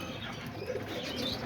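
Homing pigeons being fed coo steadily in a dense, close chorus, with soft flutters of wing flapping mixed in and no talking.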